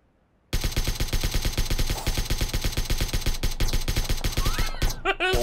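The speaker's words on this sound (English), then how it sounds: "He is shooting his AK really fast." An AK rifle in PUBG fires in a long, rapid full-auto burst after a brief silence, loud and evenly spaced shots hammering for several seconds before a few trailing effects at the end.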